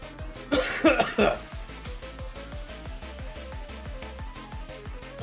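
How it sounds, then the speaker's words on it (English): A burst of several harsh, close coughs cuts in over a rhythmic background of game sounds, then fades back to the steady beat. "Sorry about my episodes of coughing."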